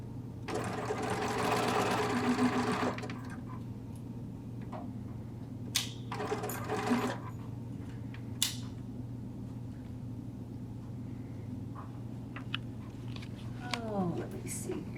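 A sewing machine stitches minky fabric in a quick whirring run at the start, then short bursts and single stitches follow, with quieter handling noises and a soft background hum.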